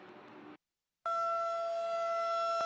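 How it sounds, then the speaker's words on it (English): An outdoor tornado warning siren sounds a loud, sustained steady tone after a brief softer burst and a moment of silence. "the outdoor warning sirens are meant to notify people that are outside"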